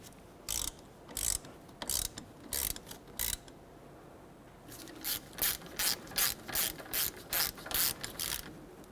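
A ratchet clicks in two bursts of quick, even strokes while tightening the brake caliper slider bolts on a 2009-2010 Pontiac Vibe, close up and loud with no talk.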